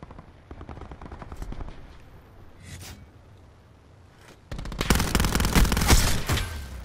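Bursts of rapid gunfire in Call of Duty: Black Ops 4 crackle in sharp volleys, quieter at first, then a loud sustained stream of shots near the end.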